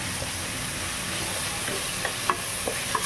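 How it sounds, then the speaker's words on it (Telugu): Ginger and garlic sauté in a hot pan with a steady, close sizzle and frying hiss, with a few soft stirring scrapes and taps near the end. "సో అది స్మెల్ పోయేటట్టు సాటే చేస్తాం."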